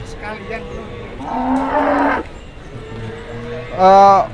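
Cattle moo loudly and repeatedly, long drawn-out lowing calls close by, with a busy crowd murmuring in the background, at the Rogojampi livestock market in Banyuwangi, East Java.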